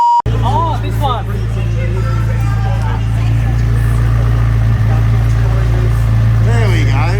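A McLaren 570S Spider sports car engine idles with a steady low hum close by, while people talk nearby over it throughout.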